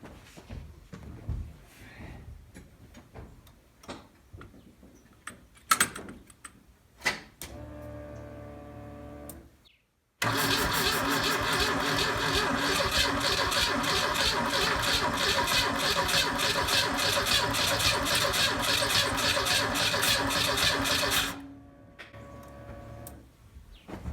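A 1984 Pontiac Fiero engine, suspected of being seized and primed with gas, cranks over on the starter in one loud, steady, close run of about eleven seconds without firing, preceded and followed by clicks and handling noises.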